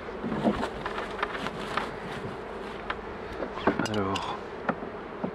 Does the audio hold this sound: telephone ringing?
no